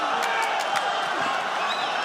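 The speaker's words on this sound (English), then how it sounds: "The crowd trying to will Moussaddak on." Spectators at a super bantamweight title fight roar steadily to push on Sarah Moussaddak, a dense, even wash of crowd noise with a few faint claps and whoops.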